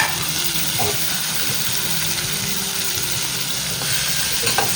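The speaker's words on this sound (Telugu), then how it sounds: "ఉల్లిపాయలు ఫ్రై చేసుకోవాలి. అవి ఇంకా టమాటాలు విధంగా ఫ్రై చేసుకోవాలి." Onions and tomatoes sizzle steadily in hot oil in a pan for a paneer curry, a continuous close hiss with a few faint clinks of stirring.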